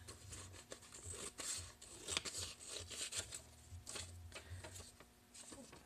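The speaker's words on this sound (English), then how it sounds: "So, I have my washi tapes. I'm going to trim this." Scissors trimming strips of washi tape at close range, with soft repeated snips and paper rustle over a faint steady background hum.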